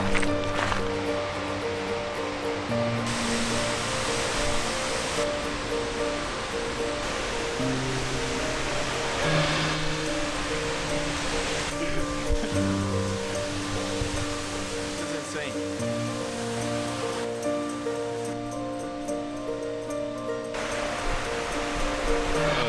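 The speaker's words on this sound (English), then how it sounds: "It's gonna be the first waterfall." Steady roar of South Falls on the Trail of 10 Falls, a broad continuous rush of falling water filling the whole stretch, with people talking over it throughout.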